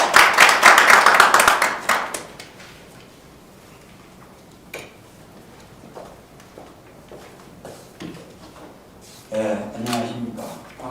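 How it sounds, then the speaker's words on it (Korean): Applause at a parliamentary seminar on a railway link, a burst of clapping from an audience at the start that fades into quiet room noise, with brief movement sounds and a voice toward the end. "큰 박수 부탁드리겠습니다."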